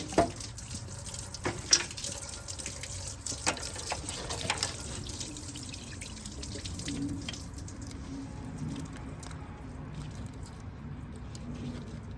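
Antifreeze coolant drains from a Trailblazer engine during a coolant sensor change, a faint trickling splash with a few sharper drips and clinks early on, settling into a soft steady flow.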